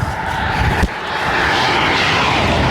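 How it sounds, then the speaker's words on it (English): A 375 CFM diesel air compressor with a John Deere 4045 turbo engine running loud and close, a steady roaring drone that swells slightly after a brief knock. "it is a 375 CFM diesel motor. I believe it's the 4045 turbo."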